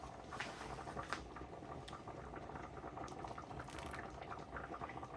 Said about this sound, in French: Je vais y ajouter l'équivalent de 2 petites louches d'eau de cuisson des pâtes.